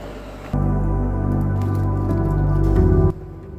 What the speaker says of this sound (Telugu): ఇప్పుడు రైస్ని ఆ బాయిలింగ్ వాటర్లో వేసుకోవాలి